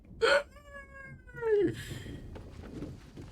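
A cat meows in the fantasy role-playing game Baldur's Gate 3, with a short sharp cry followed by a longer drawn-out, falling meow, close and clear over a soft background.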